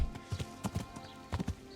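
Horse hooves clip-clop in the video game Kingdom Come: Deliverance, soft paired thuds in an irregular walking rhythm, fairly close but quiet, over a low ambient background.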